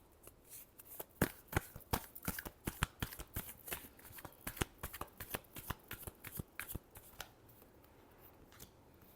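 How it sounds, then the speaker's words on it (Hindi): A deck of tarot cards is shuffled by hand in a quiet room: rapid, crisp riffling and flicking bursts come in an uneven rhythm for about nine seconds, close and clear with no talking. "चलिए एक बार और शफल कर लेते हैं, बहुत सारा कार्ड इधर उधर।"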